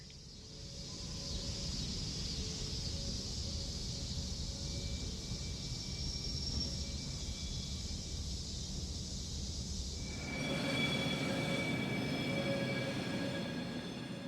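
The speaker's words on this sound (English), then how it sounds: "EMD SW8 number 11 is on the shove with 2 empty ladles." An EMD SW8 switcher locomotive shoves two empty steel-mill ladle cars near a bike trail, a steady rolling rumble with engine drone, growing louder and brighter with faint wheel squeal toward the end.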